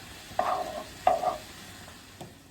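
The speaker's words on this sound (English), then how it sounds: "Give it another saute or stir, and then let it cook" Hamburger meat sautés in a pan for beef stroganoff, with two distinct scraping stir strokes over a faint sizzle, then a softer third scrape.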